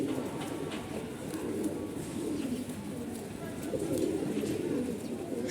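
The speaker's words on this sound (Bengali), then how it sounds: "এখন আমার কবুতরটা দেখা যাচ্ছে।" Pigeons newly brought home coo softly in a steady low murmur close by, with rustling and faint bird chirps mixed in and no talk over it.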